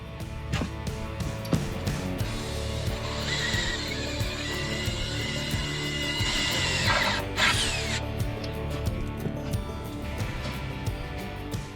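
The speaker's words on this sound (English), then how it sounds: "Now we're going to drill down through" A power drill bores down through a bolt on a swather hay cutter, giving a sustained whining, grinding drone with a harsher high-pitched screech in the middle, close and fairly loud.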